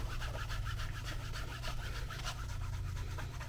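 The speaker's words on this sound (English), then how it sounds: "therefore I burnish them first and then sew" Single-ply leather edges on a toolable fanny pack are burnished before sewing, giving fast, steady back-and-forth rubbing strokes, close and continuous, with a low hum underneath.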